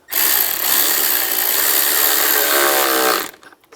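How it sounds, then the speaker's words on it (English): A power tool drives the worm clamp screw on a 2005–2007 Ford Five Hundred during oil pressure sensor replacement, giving a loud, continuous whir that runs for about three seconds and then cuts off. "Tighten down the worm clamp"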